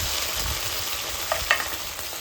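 Ground chili paste sizzles in hot oil with a steady close hiss, along with a couple of quick clinks from a spoon or pan near the end, and no voices.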